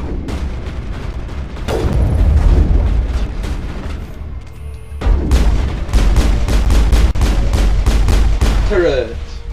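Turret gunfire from the Mass Effect video game, with repeated loud sharp bursts and booming shots spread across the clip and some dense stretches. A voice briefly mixes in.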